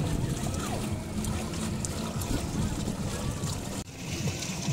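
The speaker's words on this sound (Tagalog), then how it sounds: "nakasakay tayo sa aqua bike kasi hindi ko makakabutan yung balsa namin" An aqua bike moves across the sea at Matabungkay beach in Lian, Batangas, with steady, close water sloshing and splashing and a low rumble throughout, including a brief dip near the end.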